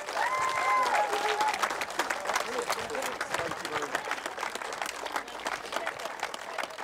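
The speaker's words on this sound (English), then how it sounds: "Ladies and gentlemen, give them a round of applause." A crowd applauding steadily at a podium presentation at an equestrian eventing competition at Chatsworth House, dense clapping that gradually thins, with voices and some cheering mixed in underneath.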